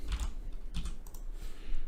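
Typing a post on a computer keyboard, a steady run of close, quick key clicks with uneven rhythm and no voices.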